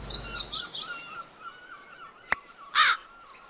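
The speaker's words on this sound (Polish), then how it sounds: "Te wrony, wrony są pobugowane, nie wiem czemu one na te krzaczki polują" Crows in modded Minecraft caw in a few short, harsh calls at close range, with one sharp click partway through and a louder final caw near the end, against a quiet background.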